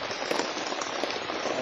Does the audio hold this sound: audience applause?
no